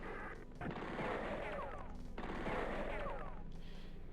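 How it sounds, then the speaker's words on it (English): Gunfire in the strategy game Spellcross, with two bursts of rapid shots, each ringing out and tailing off, at moderate distance over a steady low hum. "Guess I will have to shoot these guys"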